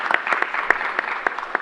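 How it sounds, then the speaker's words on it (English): Scattered applause from a small crowd at a public launch event for a COVID-19 booster site, with distinct individual claps in a loose, uneven rhythm, moderately loud and close, with faint talk beneath. "we should continue to give them a round of applause"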